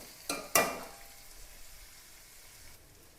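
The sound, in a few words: green chili, ginger, onion and garlic sautéing in pan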